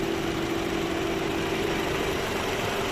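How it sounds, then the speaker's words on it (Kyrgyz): A 2020 Toyota Camry with a 2.5-litre engine idling smoothly, a steady even hum with a constant low tone and no revving, close by and uninterrupted. "Четко иштеп турат мотордо."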